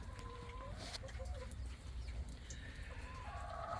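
Farm chickens cluck softly at a distance in a steady ambient scene, with low rumbling background noise and no talk.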